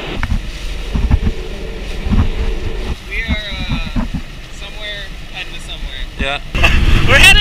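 A motorboat engine drones steadily with wind buffeting the microphone and water rushing beneath, while voices chatter and call out over the noise.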